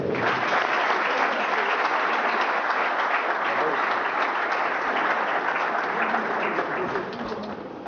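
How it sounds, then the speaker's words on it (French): A crowd at a political rally in the DRC gives sustained, dense applause to welcome a presidential candidate to the stage, steady and full throughout, then tapering slightly at the end. "sous l'applaudissement de camarade Yves Kounga"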